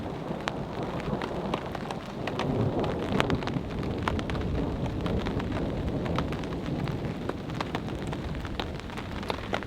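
Heavy rain pours steadily on a camp during a thunderstorm, a dense wash of drops with scattered sharper patters and a low rumbling underneath, continuous and close throughout.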